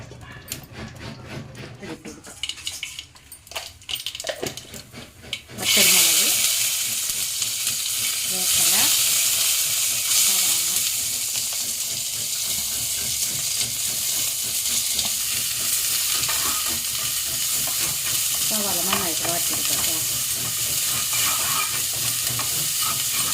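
Onions sautéing in coconut oil for a Kerala lunch: a steady broadband sizzle that starts abruptly about six seconds in and continues with occasional stirring scrapes, preceded by a quieter stretch of kitchen handling and talk.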